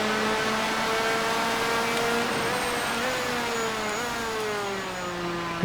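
A motorcycle engine in MotoGP 4 at Phakisa Freeway holds a loud, steady, buzzing drone whose pitch rises and dips slightly as the throttle is worked.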